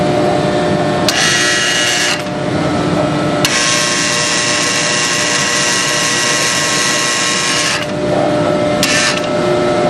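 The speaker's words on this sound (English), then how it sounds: "and now the twister's in operation." The twister on a Compac Specialties 307ATT baler runs with a loud, continuous mechanical whir and grinding hum, broken by several high-pitched bursts of whining as the mechanism cycles.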